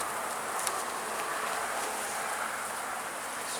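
Honeybees buzzing around an opened hive in February, a dense, steady drone close by, with no voices over it.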